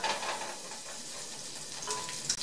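Three tablespoons of butter melt over medium-high heat in a casserole pot, making a soft, steady sizzle that swells slightly near the end, with a light clink and no speech.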